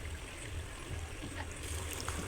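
Hot water poured into a cooking pot of beef tripe that has been braised, a steady low splashing trickle close by, continuous through the whole moment with no voices.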